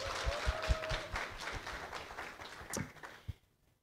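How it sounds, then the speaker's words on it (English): Audience at a live debate broadcast on mandatory measures in Namibia clap for a panelist from the revenue agency, a moderate, somewhat distant round of applause with a few sharper claps, fading out to near silence at the end. "Please give him a hand of applause."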